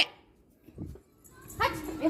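A dog gives a few short yips and whimpers close by, with people talking around it.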